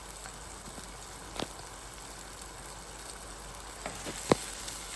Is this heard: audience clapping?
no